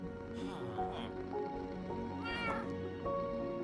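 A cat in a block-building video game meows several times in quick succession, clear, mid-pitched cries over a soft game background.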